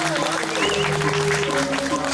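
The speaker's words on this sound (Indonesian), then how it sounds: "tepuk tangannya dong" Audience applause at a live Balinese comedy show in Munduk Catu, Kerambitan: steady, dense clapping throughout, mixed with sustained tonal music or voices and loud crowd ambience.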